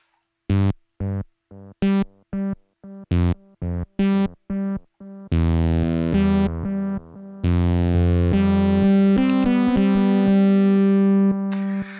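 A Donner bass synthesizer in the style of a TB-303 plays a series of short, punchy notes, then longer sustained tones that trail off with repeating echoes from its echo effect.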